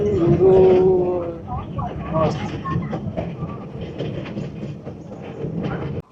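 A passenger train in China rolls along its rails with a continuous low rumble and rhythmic clatter from the carriage, and a brief high squeal near the start.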